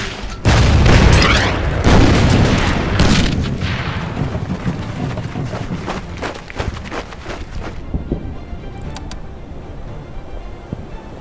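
Artillery explosions in the World War II strategy game Order of Battle: Panzerkrieg, a heavy booming blast up front followed by rolling rumbles and scattered cracks fading out, loud and without speech.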